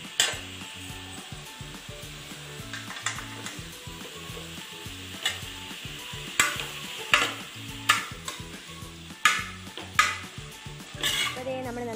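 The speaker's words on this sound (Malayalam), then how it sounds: "ഇത് നമുക്ക് ജസ്റ്റ് നന്നായിട്ട് സ്പൂൺ വെച്ച് നന്നായിട്ട് ഒന്ന് മിക്സ് ചെയ്തെടുക്കാം." A spoon stirs a chicken curry mix in a pot over heat, with steady sizzling and repeated scraping strokes, plus sharper clinks against the pot that come faster toward the end, close and with no talking.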